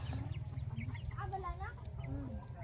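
Broiler chickens cluck softly and continuously on a farm, with overlapping quiet calls close by and no other dominant sound.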